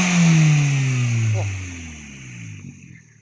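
A Toyota Starlet Glanza V with an aftermarket induction filter revs close by, engine note climbing sharply then dropping away as the throttle closes, with a faint intake whoosh trailing off.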